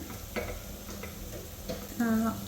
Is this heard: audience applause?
no